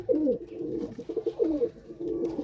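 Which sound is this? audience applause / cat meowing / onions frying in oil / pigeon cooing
pigeon cooing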